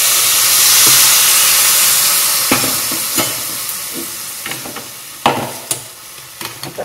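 Hot water is poured over radish pods in a pan. A loud steamy sizzle swells at first and then fades, broken by a few sharp scraping knocks of a spoon against the pan.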